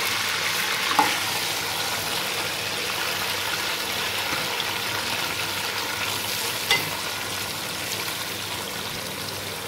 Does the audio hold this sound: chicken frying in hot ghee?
yes